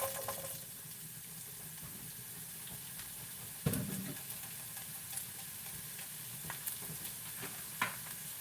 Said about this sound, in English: I will put like one piece of whatever I'm frying in there to see if my pan is hot